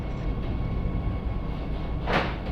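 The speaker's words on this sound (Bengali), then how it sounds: "এখান থেকে একটা লাইন আদ্রার দিকে গেছে আর আমরা এগোচ্ছি রাঁচির দিকে" Vande Bharat Express running from Howrah toward Ranchi, heard from inside the carriage as a continuous low rumble and rolling hum, with a brief louder rushing burst near the end and no talk.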